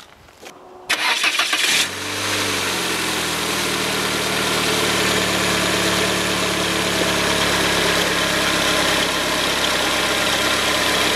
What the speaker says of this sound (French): Là, il me dit démarrer le moteur.